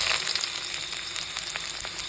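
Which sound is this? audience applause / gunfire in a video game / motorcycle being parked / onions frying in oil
onions frying in oil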